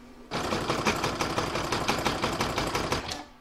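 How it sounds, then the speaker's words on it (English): An embroidery sewing machine stitches round three of a seasonal alphabet coaster in a hoop, a loud, close, rapid rhythmic chatter of needle strokes that runs steadily after a brief quiet start. "I'm now going to stitch that down with round number 3."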